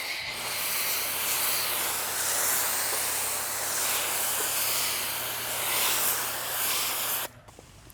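Revive demineralization car detailing spray is misted onto a car's paint: a steady, close, broad hiss that runs for about seven seconds and then cuts off abruptly.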